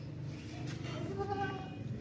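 A heavy, long-eared Makhi Cheeni breed goat on a Pakistani goat farm bleats once in a wavering, nasal call amid steady background noise and murmuring voices.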